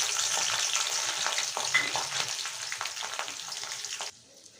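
Onion and garlic dropped into hot oil in a wok, a steady bright sizzle with stirring scrapes, close and continuous before cutting off abruptly near the end.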